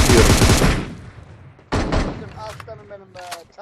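PUBG Mobile gunfire comes as a loud burst of rapid shots at the start, then another close volley, with voices chattering in the background.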